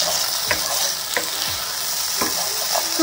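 Marinated chicken for restaurant-style garlic chicken sizzles steadily in a hot pan, with a few scraping stirs of the spatula breaking through the constant close frying hiss; no voices.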